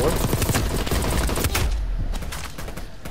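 XM4 assault rifle fire in Black Ops Cold War, unsuppressed, rattling in rapid continuous automatic bursts that stay loud and close for the full stretch, with no talk over them.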